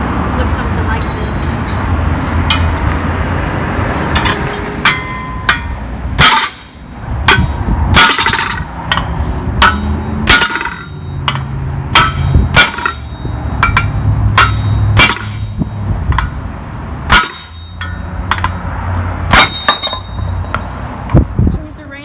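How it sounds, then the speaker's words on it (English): Repeated sharp metallic hammer blows knock a wheel hub assembly out of a 2004 Nissan Altima, struck in irregular bursts with clinking ringing between hits, loud and close. "We're gonna hammer it out"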